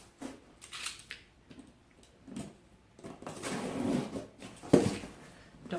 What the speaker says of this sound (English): So I am opening the box.